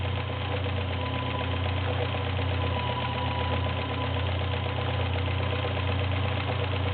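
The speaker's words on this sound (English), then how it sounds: "And it's making its little decorative stitch." Vintage Kenmore model 1601 cam sewing machine stitching a decorative vine-like pattern, a steady close mechanical whir and hum with rapid rhythmic needle chatter, unbroken and without talk.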